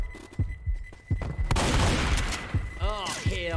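Gunfire bursts in the Left 4 Dead 2 video game, a rapid volley of loud close shots crackling together after a few scattered thumps, with a voice shouting partway through.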